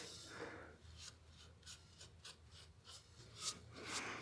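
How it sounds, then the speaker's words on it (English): A rag buffs excess wax off a wooden turning on a lathe, giving a run of soft, rhythmic rubbing strokes, close and quiet, with no talk. "Let me just buff off any excess wax."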